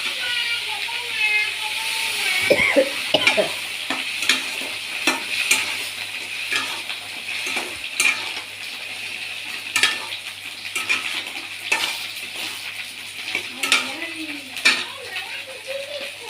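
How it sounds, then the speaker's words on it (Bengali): A potato and taro curry with gathi kochu is stirred in a pan, with repeated scraping and clattering strokes over a low simmering sizzle and occasional speech between them. "এই দেখো নাড়িয়ে দিচ্ছি মাঝে মাঝে"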